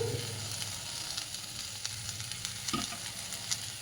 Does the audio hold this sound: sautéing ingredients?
yes